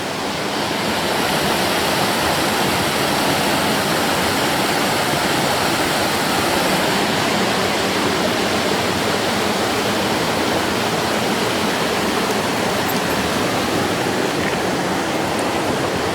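A rushing stream in high water roars steadily and loudly at close range, a dense unbroken wash of water noise with no voices.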